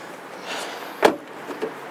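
A Honda Odyssey door with a newly fixed handle is unlatched from inside, one sharp latch click standing out against quiet background, followed by a fainter knock.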